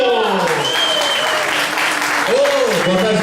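Applause from a live sertanejo show audience fills the whole stretch, dense and steady, with a voice speaking over it near the end.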